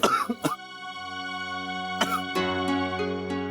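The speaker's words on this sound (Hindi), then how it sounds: "खांसी के साथ साथ सांस लेने में भी तकलीफ हो रही है।" An elderly man with breathing trouble gives a few short, close coughs at the start and again midway, under steady background music.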